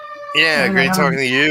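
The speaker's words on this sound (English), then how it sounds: "I think that's a fire truck." A fire truck siren passes outside, its wailing tone sweeping up and down throughout, moderately loud and partly under a voice talking.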